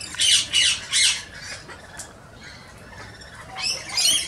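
A king parrot squawks in repeated harsh bursts close by, several calls in a row, then a pause before more squawks at the end.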